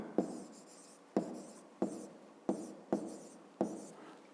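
A pen scratches out a number for a fifth-grade maths exercise in short, evenly spaced strokes, each starting with a sharp tap, heard close and alone.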